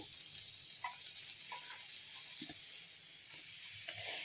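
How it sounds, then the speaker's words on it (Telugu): Finely chopped green chillies and onion fry in oil for a tamarind eggplant stew, a steady close sizzle with occasional soft stirring clicks and taps, with no talking. "పచ్చిమిర్చి అండ్ ఉల్లిపాయ ఈ 2 కూడా సన్నగా తరిగి పెట్టుకున్నాం కదా. ఇవి 2 కూడా వేయించేసుకుందాం."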